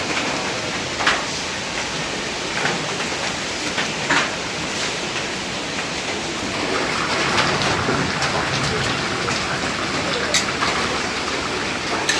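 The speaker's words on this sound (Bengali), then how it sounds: "বাতাস আসতেছে আওড়া কাওড়া বাতাস বৃষ্টি শুরু হয়ে গেছে অলরেডি" Wind and rain starting outdoors, a dense, even hiss of rainfall and gusts lasting throughout, with occasional sharper patters and knocks.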